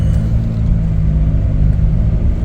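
A 2024 Chevrolet Traverse Limited RS on a test drive gives a steady, smooth low cabin rumble of engine and road noise, continuous and close with no talk.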